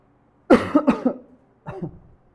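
A burst of harsh coughing, two quick coughs followed by a pause and a weaker third, close and loud.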